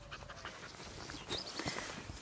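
A dog panting hard after running back during stay training, quick rhythmic breaths close by, fairly quiet, with a couple of soft footfalls or shuffles partway through.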